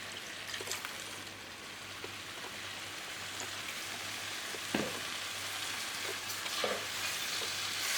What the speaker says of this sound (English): And then we're going to add some stock.